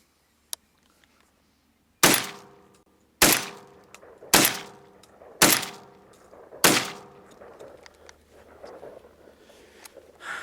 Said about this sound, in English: So Tristar Raptor, these are the first shots with it